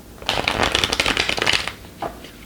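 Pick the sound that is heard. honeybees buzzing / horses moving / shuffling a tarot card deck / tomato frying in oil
shuffling a tarot card deck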